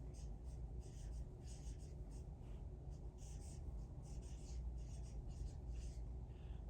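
Pen scratching steadily across paper in short, repeated strokes, quiet and close, with soft rustles between marks and a low room hum underneath.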